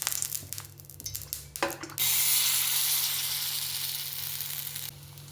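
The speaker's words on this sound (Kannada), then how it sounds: "ಇಂಚೇನೆ ತವ ಕಾಯ್ದನು ತಾರೆದೆಣ್ಣೆ ಪಾಡ್ಗ ಅಂತ ಫ್ರೈ ಮನ್ಪರೆ" Kallur fish frying in oil on a hot tawa gives a loud, steady sizzle that surges up after a few soft clatters and settles into a continuous hiss close by.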